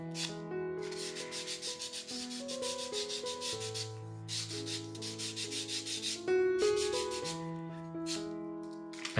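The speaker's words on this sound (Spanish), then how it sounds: "ya estoy lijando el listoncillo de 3 x 3." Rhythmic rubbing strokes of sandpaper on a rough 3 x 3 mm wooden strip for a model ship rasp back and forth in bursts, alongside steady background music.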